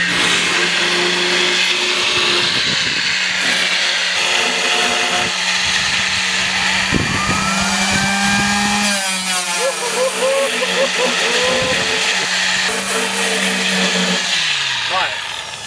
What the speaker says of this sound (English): This Zito grinder's got two functions. If you just press down, normal grinder, but if you let it spool up, it's mad.